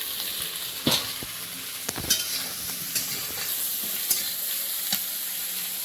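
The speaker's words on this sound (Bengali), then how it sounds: "এর মধ্যে সবজিটা দিয়ে দেবো পেয়ারা দিয়ে বেগুন" Eggplant and guava stir-fried in a pan with a little chopped onion: a steady close sizzle, broken every second or so by sharp scrapes and clacks of the stirring spoon, with no voices.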